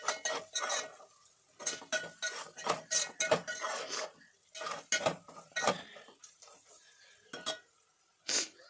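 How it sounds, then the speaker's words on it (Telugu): A spoon scrapes and clinks against a pan as spices are mixed in, in irregular bursts of metallic stirring with short pauses between them. "బాగా మిక్స్ చేసేసి"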